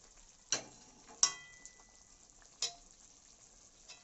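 Shrimp and eggplant cooking in a pan for a shrimp and pumpkin-stem dish: a faint, quiet background broken by three or four sharp utensil clacks and stirring knocks, spaced irregularly.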